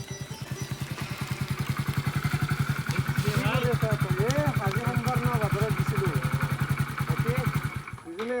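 A new motorcycle's engine idles close by with a steady, rapid, even putter that runs throughout and cuts off at the end, while voices talk over it.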